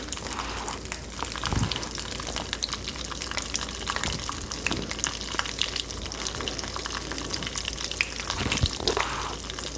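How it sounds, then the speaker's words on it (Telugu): Ingredients crackling as they fry in oil over a low flame, a steady close sizzle with popping bursts, continuous throughout. "ఇవి చిటపటమంటూ సిమ్లోనే బాగా వేయించండి"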